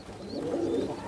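Several pigeons coo in low, rolling murmurs at a breeder's loft, with the sound steady and close throughout and no one talking.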